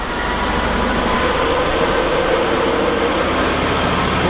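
A Class 66 diesel locomotive, number 66794, passes through Doncaster station bound for Scunthorpe, a loud, continuous rumble and roar of engine and wheels that holds steady throughout.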